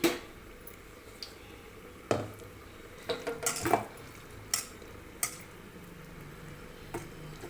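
Spinach bajji fritters drop into hot oil and fry with a soft low sizzle, broken by scattered clinks and taps of a utensil against the pan. The sound is fairly quiet and close, with no talking.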